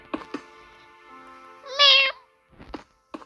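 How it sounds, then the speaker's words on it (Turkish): A cat meows in a loud, drawn-out burst near the middle, with shorter faint vocal sounds and thumps before and after it. "Benim kedi çıldırdı"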